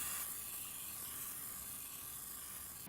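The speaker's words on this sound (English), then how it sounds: "So now I'm going to spray this and marinate it with the olive oil." Olive oil mists from a spray bottle onto vegetable noodles in a continuous faint hiss that stays even and unbroken throughout.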